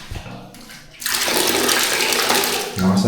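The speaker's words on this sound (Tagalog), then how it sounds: "Lakas ng tubig." Strong water gushing from a tap in a campsite bathroom, starting abruptly after a second of quieter sound and then pouring loudly and steadily, close to the microphone.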